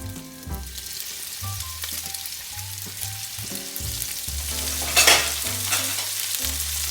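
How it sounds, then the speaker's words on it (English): Chicken sizzles steadily in olive oil in a pan for a dill-flavoured stir-fry, a continuous crackling hiss with one brief sharper burst partway through, over quiet background music. "A little bit of olive oil in the pan, and listen to that sizzle."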